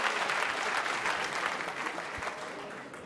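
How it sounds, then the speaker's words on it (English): Crucible crowd at the Snooker World Championship giving a standing ovation, dense sustained applause from many hands filling the hall, gradually easing toward the end. "A stunning ovation from this Crucible crowd"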